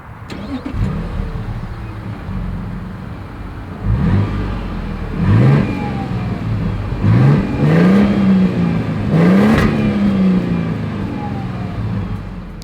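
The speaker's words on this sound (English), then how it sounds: "As always, here is that exhaust clip." A 2023 Toyota Sequoia full-size SUV's engine starts and its exhaust revs, loud and close, with several rising and falling throttle blips over a steady idle rumble.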